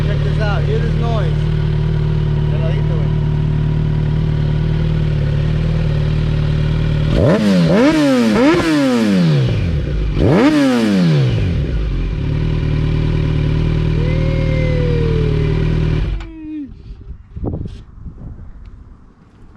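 A 2021 Kawasaki Z900 with an M4 full exhaust and headers idles with a deep, loud rumble, then revs hard twice in sharp rising bursts before dropping back and cutting off near the end.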